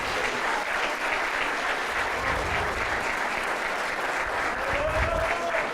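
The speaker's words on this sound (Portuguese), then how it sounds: "As palmas para Jesus. Aplaudam o Senhor, aleluia." A church congregation applauds steadily for several seconds, a dense, even wash of many clapping hands filling the room without a break.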